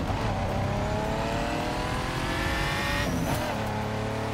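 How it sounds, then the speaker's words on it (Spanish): A Pagani Zonda R in The Crew 2 racing game screams at high revs, its engine note climbing steadily through gears with a brief shift near the end, loud and constant with no voice over it. "Vamos a probar varios coches."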